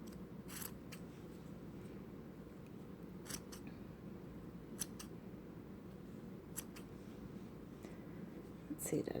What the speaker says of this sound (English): And you get all the loops, cut the ends of them.